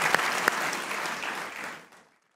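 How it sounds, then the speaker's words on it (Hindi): Studio audience applause for Atif Aslam on a comedy talk show: a dense burst of clapping that holds steady, then fades out over about two seconds. "एक बार आतिफ असलम के लिए तालियां हो"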